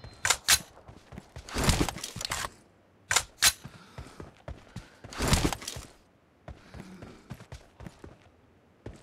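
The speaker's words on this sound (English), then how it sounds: "Reloading!" M416 rifle handling in a mobile shooter game: a handful of sharp clicks and clacks spaced apart, loud and close, with game voice callouts between them.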